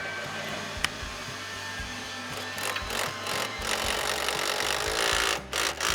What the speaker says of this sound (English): I'm going to drill a pilot hole first with a 5mm